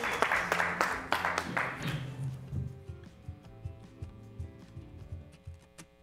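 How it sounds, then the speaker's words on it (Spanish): Studio audience applause during a television interview, a burst of clapping that fades after about two seconds, leaving soft background music with scattered claps. "Un aplauso."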